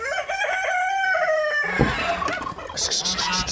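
Loud honking geese call close by, with a rising harmonic cry followed by scuffling and a higher chatter of poultry.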